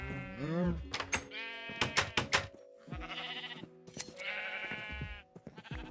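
Several bleats from sheep in the video game Minecraft, wavering and nasal, separated by short sharp clicks and pauses, fairly close and clear.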